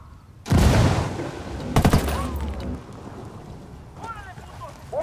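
A thrown frag grenade and gunfire in the Ghost Recon Wildlands video game: a heavy blast, then a second cluster of sharp bangs, followed by a rumbling, noisy tail with scattered lighter shots.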